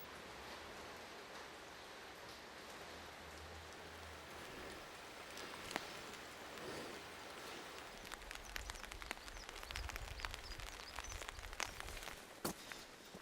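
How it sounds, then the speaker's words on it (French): Steady rain hisses softly, scattered drops ticking and pattering on a nearby surface throughout, with no voices. "Il pleut un petit peu, mais bon, il faut s'y faire."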